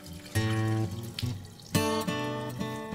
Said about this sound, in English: When you've sanitized all the bottles, empty them into the sink.